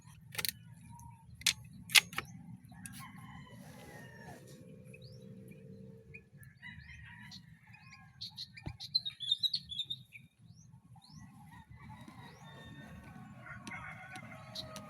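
Small wild birds chirp in short scattered tweets outdoors during a marble-gun hunting outing, faint and intermittent over a steady low rumble of background noise, with a few sharp clicks and taps.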